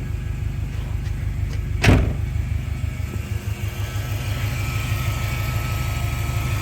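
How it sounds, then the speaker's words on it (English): A Subaru Forester Turbo with throttle hesitation idles with its engine running. A steady low hum and faint alternator whine carry throughout, broken once by a sharp click or thump. "Because you can hear the engine,"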